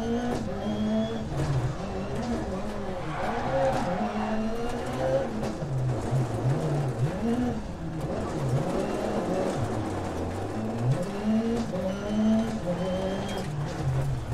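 Video game car engine revving hard and continuously, pitch sweeping up and down through gear changes, with tire squeal mixed in over a steady, loud drone.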